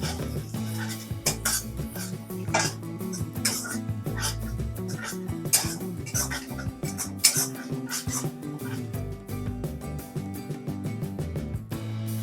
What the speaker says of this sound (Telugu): క్యారెట్ వేసుకోవాలి కట్ చేసుకున్న చిల్లీ కూడా వేసుకోవాలి వీటిని హై ఫ్లేమ్లో పెట్టుకొని బాగా వేయించుకోవాలి